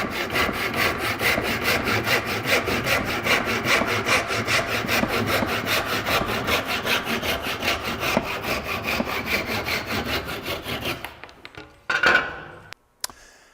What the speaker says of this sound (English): I would rather it be sliced off with a saw and then I can sand it.